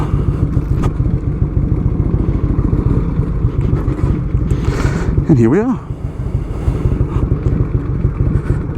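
A 1984 Harley-Davidson FLT Tour Glide motorcycle rumbles loudly and steadily at close range, with a brief rising squeal partway through, while someone speaks briefly over the engine.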